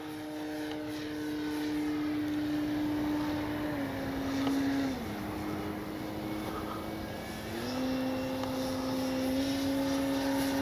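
A Hangar 9 J-3 Cub 10cc RC plane flies overhead, its steady propeller drone holding a constant pitch that dips and rises as it passes, continuous and fairly loud outdoors throughout.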